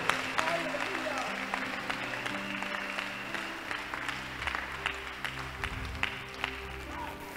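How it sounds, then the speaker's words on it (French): A church congregation applauds after a testimony at a deliverance service: a dense wash of clapping plays throughout under steady sustained tones and a faint voice. "Applaudissons"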